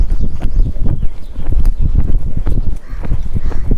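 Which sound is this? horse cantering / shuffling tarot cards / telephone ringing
horse cantering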